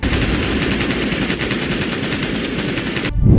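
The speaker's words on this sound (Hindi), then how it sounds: "और फिर अचानक गोलियां चलने लगी" Rapid, sustained automatic gunfire, a dense loud stream of shots with no break, ending abruptly with a short final burst.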